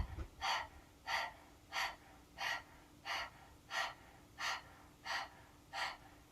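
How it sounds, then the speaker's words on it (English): Panting dog breaths during a chair yoga practice, with about ten rhythmic, evenly spaced breathy exhalations, close and fairly faint, and no talking. "15 dog breaths, sticking out the tongue and panting."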